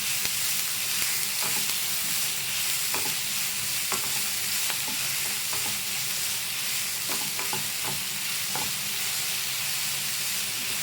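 Onions sautéing in a pan for a prawn thokku: a steady loud sizzle runs throughout, broken by regular scraping knocks as a spoon stirs them, with no voices.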